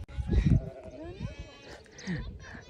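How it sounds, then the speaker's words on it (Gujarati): Goats bleat nearby on an outing, a few wavering calls rising over people talking close to the microphone. "કોમલ મેડમ બકરા સારતા હતા."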